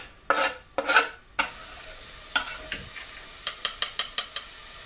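Onion and garlic drop into hot oil and sizzle, followed by scraping stirs and a rapid run of sharp spoon taps against the pan, close and clear.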